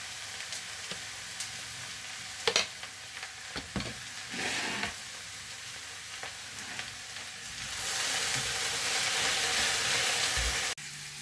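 Okra (dhenrosh) frying in a pan beside spiced chapila fish prep, a steady sizzle with scattered clicks and stirring scrapes, swelling louder and hissier in the last few seconds before a brief drop.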